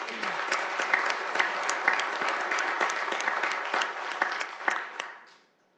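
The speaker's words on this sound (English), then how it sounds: "Please give Ken another round of applause." An audience at a city awards evening gives a round of applause, many hands clapping steadily at a fairly close, even level before the clapping fades out at the end.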